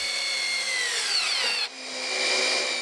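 Power drill driving a batten screw into a timber roof batten, a loud rising whine that bogs down as the screw seats, stops abruptly, then spins up again.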